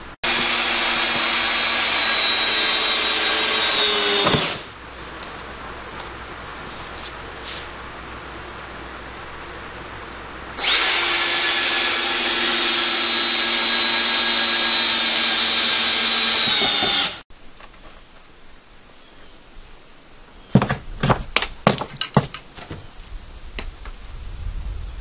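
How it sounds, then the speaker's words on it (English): A power drill whirs in two long bursts with a pause between, driving screws to hold a window in place during installation, followed by quieter scraping and a few sharp knocks near the end. "we're going to take a drill motor and we're going to put some screws in it to hold it in place"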